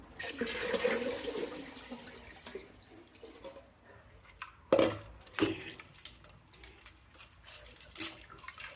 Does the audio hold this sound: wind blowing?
no